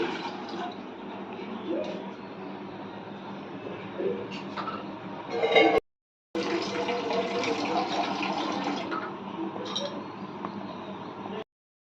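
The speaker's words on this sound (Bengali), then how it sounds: "তার জন্য আমরা একটা পাত্রে জল দিয়ে দিচ্ছি" Water pours steadily into a pot to boil mango for chutney, a continuous close splashing stream that pauses briefly midway and then resumes.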